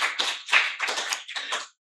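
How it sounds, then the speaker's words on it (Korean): A church congregation at a Sunday worship service claps in several short bursts of hand claps separated by brief pauses, fairly close and fading out at the end, with no talking over it. "우리 청년 청소년 엄마 아버지 사랑해요 감사해 박수 좀 쳐주세요."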